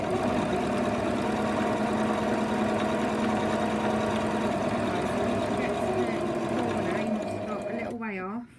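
A sewing machine stitches a tote bag with contrasting thread, a loud steady mechanical hum running several seconds before slowing and stopping, with a voice speaking over it.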